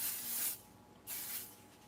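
Pixie spray mist hisses onto black cardstock in two steady bursts, each about half a second to a second long, separated by a short pause.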